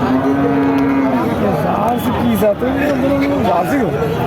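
A five-month-old Jersey calf moos loudly and close at a busy cattle market in Jhenaidah, long drawn-out bellows with rising and falling pitch over faint crowd murmur.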